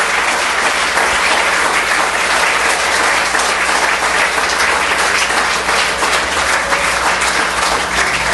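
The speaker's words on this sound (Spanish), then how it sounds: "Yo le doy un fuerte aplauso al Señor en esta tarde" A church congregation gives a loud, sustained round of applause, a dense unbroken wash of many hands clapping steadily from start to finish with no talking.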